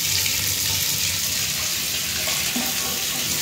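Water rushes steadily from a household tap at regular flow, a loud, close, continuous hiss with no pauses and no voices.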